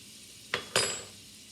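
A spoonful of flour dropped into hot fat in a pan for a roux: two quick bursts of hissing sizzle, the second louder, then fading to a soft crackle.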